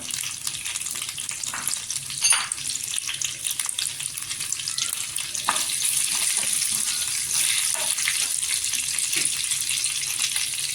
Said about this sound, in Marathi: मोहरी टाकल्यानंतर आहे ना मोहरी छान अशी तरतरली पाहिजे इथे जिरं टाकून घ्यायचं जिरं टाकल्यानंतर करीपत्ता टाकायचा